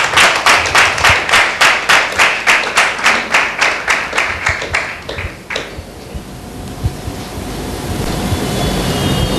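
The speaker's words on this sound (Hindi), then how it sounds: "एक जोरदार ताली देंगे परमेश्वर के नाम की महिमा के लिए" A church Sunday meeting audience claps loudly in unison, about twenty sharp rhythmic beats, then breaks into scattered applause that fades into steady room noise.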